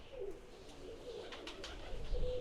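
Pigeons coo softly in the point-and-click adventure game Randal's Monday, low gentle burbling calls over a faint ambient background, with no speech.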